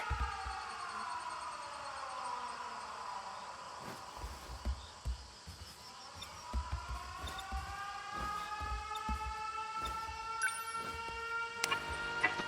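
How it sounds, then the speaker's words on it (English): Wailing air raid sirens in the video game 13 Sentinels: Aegis Rim rise and fall in long overlapping tones, with scattered thumps and clicks underneath, steady throughout. "Air raid alarms have been sounded."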